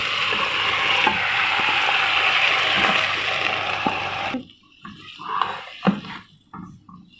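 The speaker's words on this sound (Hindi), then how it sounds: "पैन हमने चूल्हे पे रख दिया और इसमें हम अपनी ये मलाई डालते हैं।" Milk cream (malai) heating in a pan on a stove to make desi ghee, a broad steady sizzling hiss that cuts off abruptly midway, followed by quieter scattered clatter and bubbling.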